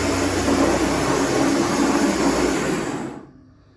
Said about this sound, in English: I know the ball screws really sound rough. It's because I haven't greased them yet